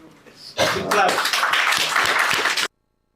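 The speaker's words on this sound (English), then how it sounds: "Big clap" An audience claps at a GenZ Speaks launch event in India, with dense, steady applause that starts suddenly and runs for about two seconds before cutting off abruptly.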